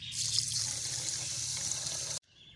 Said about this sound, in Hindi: इसमें पानी ऐड करेंगे।